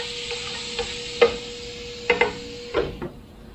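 Chicken coating mix with onion powder being stirred together in a bowl, a few soft scrapes and knocks spread over a few seconds, close and fairly quiet over a faint steady hum.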